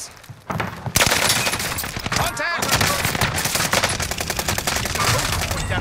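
Rapid automatic gunfire in a battle-royale style video game, dense sustained bursts of shots close and loud, continuing with brief breaks throughout.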